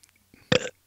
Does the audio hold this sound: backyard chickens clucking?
no